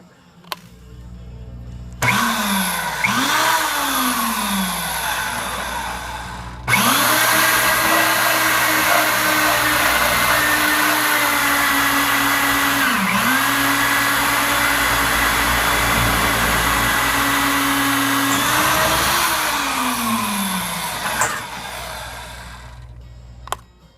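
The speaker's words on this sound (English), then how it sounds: "So we're gonna go ahead and drill them out now." A power drill bores out spot-welded holes in steel for a welded bed build, a steady loud whine with pitch dips as the bit bites, running continuously for about twenty seconds after a brief start-and-stop.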